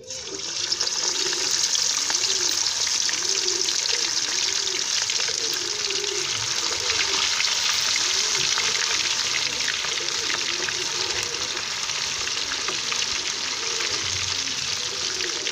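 Fish pieces frying in hot oil in a pan, a loud steady hiss and crackle of sizzling that runs without a break throughout, with no talking.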